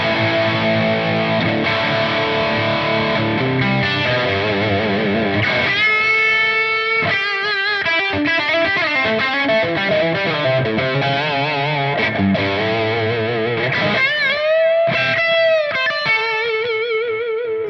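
Electric guitar through a high-gain Friedman-style amp tone on the bridge humbucker, playing a loud, continuous distorted riff with chugging chords and sustained lead notes, alone with no talk.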